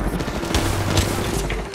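Dense, continuous gunfire rumbles in an Apex Legends match, steady booming shots blending into a loud, unbroken barrage.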